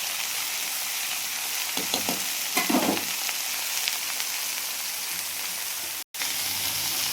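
Leafy greens cook in a home kitchen pan with a steady soft sizzle and frying hiss throughout, broken by a few brief stirring or scraping bursts near the middle and a short dropout near the end; no one speaks.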